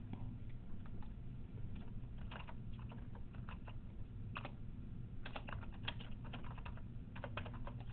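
Fingers type on a computer keyboard, quick irregular clusters of soft key clicks close by and moderately quiet, with no speech over them.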